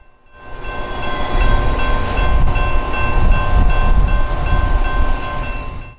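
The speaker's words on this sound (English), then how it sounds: "Metro trains are running on the Metro Union Pacific West line." A Metra commuter train on the Union Pacific West line in Chicago passes close by, a loud sustained rumble with rail noise and faint steady tones swelling in and fading away.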